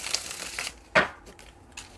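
A deck of tarot cards is shuffled by hand up close in a quiet room, with soft riffling and a sharp snap of cards in the middle, then lighter rustles.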